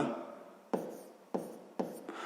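Pen or marker writing by hand while working a sixth-grade fraction exercise, a soft continuous scratching broken by three sharp taps or stroke starts, close and quiet with no talking.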